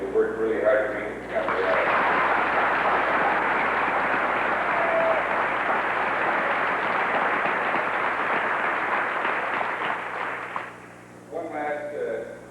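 Sustained crowd applause at a high school band event for the Amery High School Band, after the 1985 Cotton Bowl Parade. The clapping rises quickly, holds steady and full for about nine seconds, then fades, with talking just before and after.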